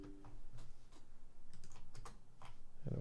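Typing on a computer keyboard, a run of irregular clacking keystrokes close to the microphone over a low hum, ending in a louder thump.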